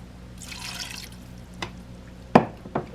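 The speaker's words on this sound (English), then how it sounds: "now I'm going to add the water." Water being added to a pan of drained ground beef for Hamburger Helper, heard as a brief soft splash and a few close drips and trickles, with a louder splashing burst near the end.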